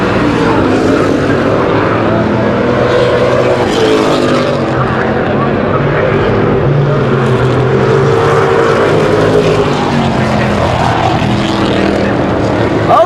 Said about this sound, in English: You can hear the roar of these big throaty 427 V8s as they come storming